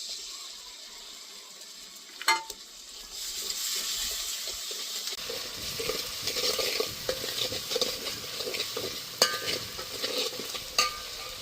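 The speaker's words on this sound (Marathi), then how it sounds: "आता मसाला टाकून घेते त्याच्यात. धने पावडर तेलात भाजलं जाते." Ground coriander powder and homemade masala sizzle in hot oil as they are stirred in a pan for a mutton dish, with a steady frying hiss, scraping stirs and a few sharp clinks. No one speaks.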